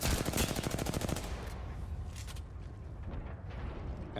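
Automatic gunfire in the video game Apex Legends, a loud rapid burst of shots for about a second and a half, then a lower rumble with scattered fainter shots trailing off.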